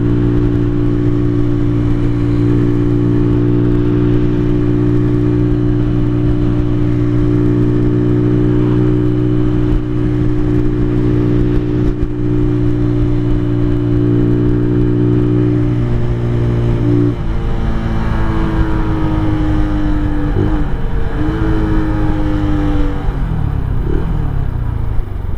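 A 2023 Venom SS3 KP mini 150 motorcycle drones along on a ride, held below full throttle, its engine note steady and loud and then climbing and shifting as the revs change partway through.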